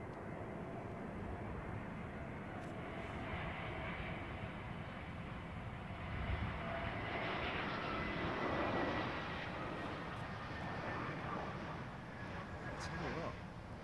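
A British Airways Airbus A380 climbs through about 11,000 feet after departing Heathrow, giving a steady, distant, broadband jet roar that swells gently midway through and persists throughout.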